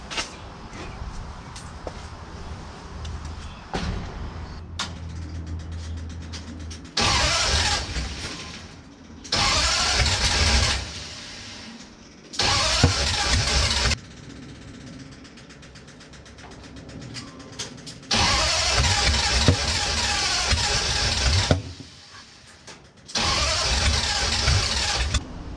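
A flathead engine in a hot rod runs unevenly nearby while its idle screws are adjusted, settling into a rough idle between several loud revving bursts that rise and drop back.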